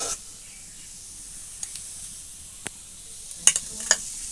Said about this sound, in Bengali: ভাজা হয়ে গেছে, লাল করে ভেজে নিয়েছি